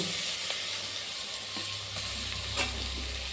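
Steady sizzling of tomatoes frying in a pan for chicken biryani, with a constant hiss and a few faint stirring scrapes.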